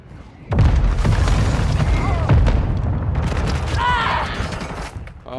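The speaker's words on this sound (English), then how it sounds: "Hostiles launched a mortar strike." Mortar shells in a shooter video game land in heavy booming blasts, several deep explosions rolling one into the next at close range, with scattered crackling debris and a brief voice over the din.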